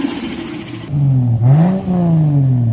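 A Mercedes 190E EVO II fitted with a 2JZ engine and a custom single turbo accelerating, a loud close engine note that climbs in pitch, dips briefly at a shift, then pulls upward again.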